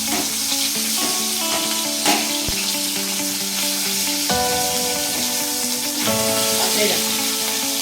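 Oil sizzles and crackles loudly as hilsa fish heads fry, a continuous close hiss with steady tonal hum and occasional sharp clicks and pops.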